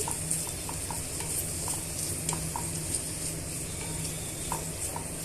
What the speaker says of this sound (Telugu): ఉల్లిపాయల్ని బాగా మగ్గించుకోవాలండి ఆనియన్స్ బాగా వేగిపోయాయండి